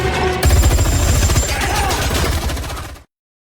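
Rapid gunfire during a bank vault robbery in a film, a loud continuous burst of automatic shots that cuts off abruptly.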